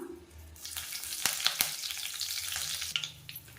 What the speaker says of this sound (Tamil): எண்ணெய் நல்லா சூடானதும் கருவேப்பிலையில் சேர்த்துக்கலாம்